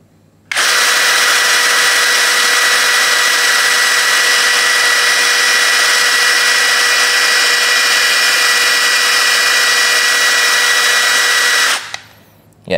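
Doliz BD636 12V brushless cordless drill spinning at speed 1, about 450 RPM, a loud steady high whine that starts abruptly, holds level for around eleven seconds with no load, then winds down.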